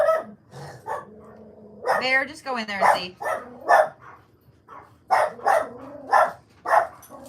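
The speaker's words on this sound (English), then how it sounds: "They're going to bark for just a minute." Dogs bark in a loud, close series of repeated bursts with some growling mixed in, while a person talks briefly over them.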